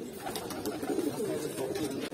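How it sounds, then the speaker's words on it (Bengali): Pigeons in a loft coo softly in a low, continuous murmur, with scattered wing and shuffling noises over a dull background. "এই যে ভাইয়ের যে কবুতর গুলো আছে, এগুলো একটু এক নজরে দেখাই দিই"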